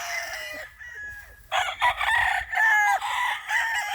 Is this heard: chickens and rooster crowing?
yes